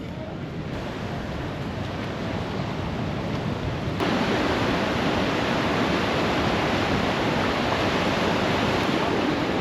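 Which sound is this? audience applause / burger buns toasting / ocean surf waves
ocean surf waves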